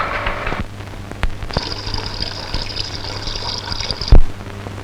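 Water spills over the rim of a pot in a steady, close trickling wash with a low hum underneath, ending in a brief louder splash or knock.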